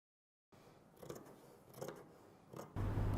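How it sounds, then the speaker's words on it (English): Scissors snipping through lace details for a dress, a few quiet close cuts over a soft background hiss, ending in a louder rustle. "Next I'm going to cut these details of lace"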